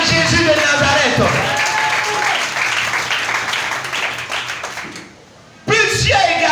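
A church congregation applauds and cheers in acclaim of Jesus, a dense, loud wash of clapping and voices that drops briefly near the end before surging back.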